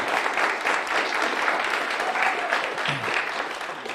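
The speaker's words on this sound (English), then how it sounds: "Give them all a round of applause." Sustained, loud clapping from an audience honoring teachers at an Arkansas bill signing, a thick wash of applause that stays level throughout with a murmur of voices faintly underneath.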